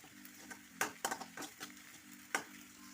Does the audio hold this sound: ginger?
yes